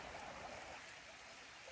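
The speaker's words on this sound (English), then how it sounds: "You can hear this creek down here." A creek runs below a California campground in the off season, giving a steady, even rush of flowing water at moderate distance with no one talking.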